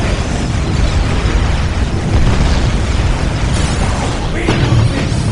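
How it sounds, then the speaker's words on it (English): Explosions in a Warhammer 40K Dawn of War Soulstorm battle, a loud, dense rumbling blast texture with crackling bursts layered over continuous combat noise. "Make it explode!"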